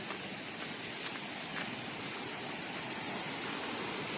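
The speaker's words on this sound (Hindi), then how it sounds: "पानी का आवाज आ रहा है।" Rushing water at Chunari Fall, a broad, steady hiss of falling water heard from some distance, continuous and fairly faint with no talking over it.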